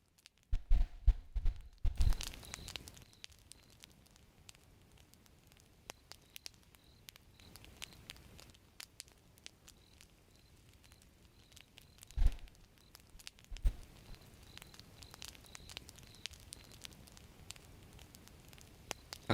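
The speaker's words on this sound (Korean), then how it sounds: "이제 좀 모닥불로 한번 바꿔줄까 소리." A campfire sound effect crackles quietly and steadily, with soft pops and a few sharper snaps standing out now and then. No one speaks.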